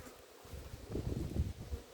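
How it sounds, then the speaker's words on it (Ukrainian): Bees flying home to their hive from the woods in May, a soft low buzzing hum that swells in the second half, faint and close with light wind noise, no talk. "Як бджоли тікають додому. Десь із лісу летять."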